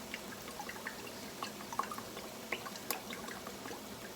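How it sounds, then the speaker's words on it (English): Hot sauce is poured into melted butter for wing sauce, making faint dripping and light trickling with small splashy ticks over a quiet background. "I'm going to put a little over half a cup of hot sauce"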